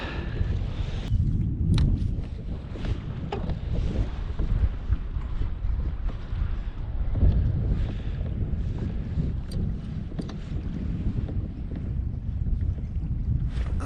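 Strong wind gusting over open water around a fishing boat, a steady loud roar with buffeting against the microphone throughout, no talking.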